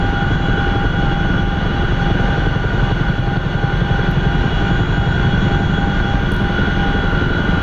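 An MH-47 Chinook tandem-rotor helicopter in the DCS flight simulator, flying with the autopilot engaged, gives off a loud, steady drone of rotor and engine noise that holds constant the whole time, with no voices.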